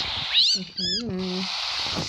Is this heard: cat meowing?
yes